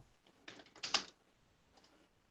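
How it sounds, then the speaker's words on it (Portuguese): Fingers typing on a computer keyboard in a classroom: a quick flurry of soft, close key clicks in a short burst, followed by a few faint, scattered taps against quiet background. "Os dedinhos digitando"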